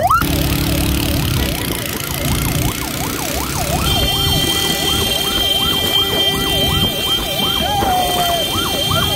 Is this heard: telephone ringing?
no